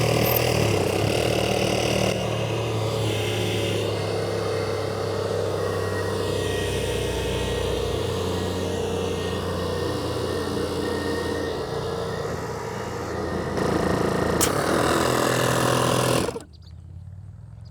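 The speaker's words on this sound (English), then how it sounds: "Compressor on." Air compressor running steadily nearby, a constant droning hum for about sixteen seconds that then cuts off abruptly, leaving near silence, with no talking.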